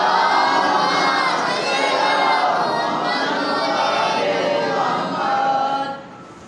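Large gathering at a Muharram majlis loudly reciting salawat together, a dense chorus of many voices chanting in unison for several seconds before fading, close and loud.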